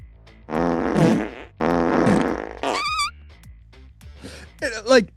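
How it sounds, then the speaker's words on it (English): Comedic fart sound effects dubbed over wrestling television footage, several separate blasts in quick succession, fairly loud, mixed with wobbly pitched squeaks and sliding tones. "they put fart noises underneath every time"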